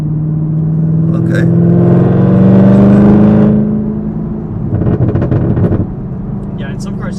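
Supercharged ZL1 Camaro launching hard under launch control, a loud rising engine roar building over a few seconds, then a rougher burst of revs, with people talking briefly over it.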